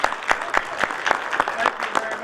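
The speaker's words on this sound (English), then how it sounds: "If you guys will just give a nice round of applause to Roger Holter" A small audience gives a round of applause at a talk, moderately loud claps with a loose, uneven rhythm and distinct individual hand strikes, while a voice can be heard over them.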